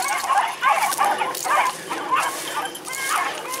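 A beagle whimpers and yips in the woods while on a track, giving a rapid series of high, excited cries that keep going under a voice.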